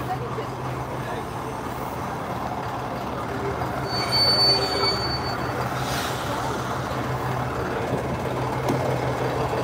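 A train rolls into a seaside station on a service bound for Swanage, giving a steady rumble with faint wheel squeals and brief high metallic tones in the middle. Someone talks quietly over it.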